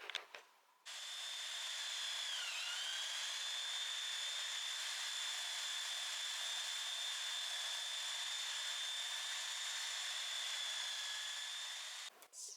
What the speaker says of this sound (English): Just going to belt sand the top here